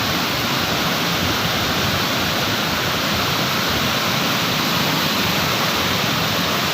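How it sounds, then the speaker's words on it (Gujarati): Released floodwater at Subhash Bridge roars in a loud, constant rush that fills the whole clip, a dense wash of turbulent noise with no voices. "અને આ પાણી છોડેલું છે."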